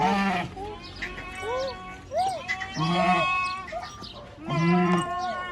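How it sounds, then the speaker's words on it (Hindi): Flock of sheep and goats bleating close by, several loud wavering cries overlapping in irregular bursts, with people talking in the background. "और भेड़ बकरियां ये डर रही है"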